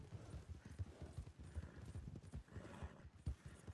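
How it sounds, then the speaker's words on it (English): Horse hooves clip-clop steadily as a baby horse is ridden in a video game, a fast, continuous patter of close, muffled thuds with no speech. "Oh, I'm on a baby horse."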